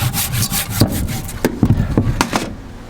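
A handsaw works through dense, heavy oak in quick rasping back-and-forth strokes, close and loud, with a few sharper scrapes as the teeth bite into the wood.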